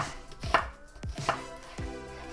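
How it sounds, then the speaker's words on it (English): A knife thinly slicing onions on a cutting board: four crisp, separate cuts land close and clear, each with a short knock, and no one speaks. "The onions we're just going to thinly slice."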